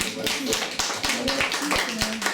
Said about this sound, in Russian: эти аплодисменты вам, Оксаночка